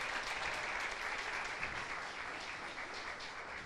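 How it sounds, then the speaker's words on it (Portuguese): Church congregation clapping in praise during a worship service, a steady, dense wash of applause throughout with no voices standing out. "Vamos aplaudir o Senhor pela vida do Marcos"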